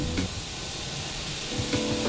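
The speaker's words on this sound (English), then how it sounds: "You wanna hear the sizzle." Burger meat sizzles in a hot pan with a steady, loud hiss, with a couple of brief clanks or pops over the frying.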